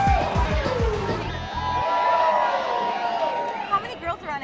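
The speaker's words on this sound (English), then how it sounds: "they are jamming to sell-out crowds, and this place is just roaring with excitement" An excited crowd roars and cheers at a sold-out Detroit Derby Girls roller derby bout in the Masonic Temple, a broad, sustained wash of shouts and whoops, briefly under a close speaking voice at the start.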